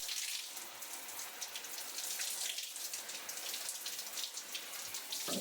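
Laundry washed by hand with water and liquid soap at a campsite in Polzeath, Cornwall, giving a steady close splashing and running-water wash with no speech.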